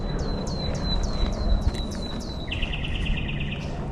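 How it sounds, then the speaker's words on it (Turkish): Birds chirp outdoors along Bayındır Stream near Kızılcahamam, Turkey, in a quick series of bright repeated calls, then one bird breaks into a steady rapid trill over a soft background hum. "Valla kuş sesleri."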